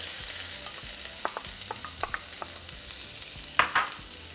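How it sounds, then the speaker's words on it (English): Half an onion sizzles in hot oil in a skillet over medium-high heat, a steady close hiss with light spatula taps scattered through it and one sharper clatter near the end, no speech. "Now we're just going to saute for a couple minutes."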